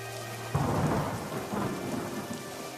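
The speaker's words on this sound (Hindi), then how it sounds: "बारिश थी कि रुकने का नाम तक नहीं ले रही थी।" Heavy rain pours steadily in a cartoon, with a deep thunder rumble breaking in loudly after a brief moment and rolling on beneath the downpour; no voices.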